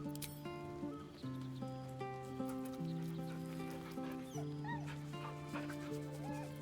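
Dog whimpers and yips softly in the video game Baldur's Gate 3, in short rising cries over sustained background music.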